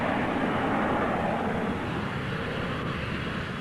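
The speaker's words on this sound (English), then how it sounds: "Many airports monitor takeoff noise with meters near the runway." An aircraft taking off near an airport runway produces a loud, continuous, broadband engine roar that holds steady throughout, close and dominant with no other sounds.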